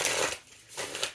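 Cards from an Onyx tarot deck riffle and shuffle in two short rustling bursts, close and moderately loud, with a quiet pause between them.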